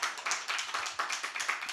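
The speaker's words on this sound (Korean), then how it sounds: "감사의 박수 한번 드리겠습니다" A church congregation claps together in praise during a Sunday worship service, a fast, close, rhythmic patter of many hands, loud and continuous throughout.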